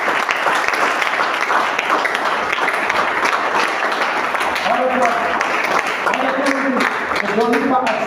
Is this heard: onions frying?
no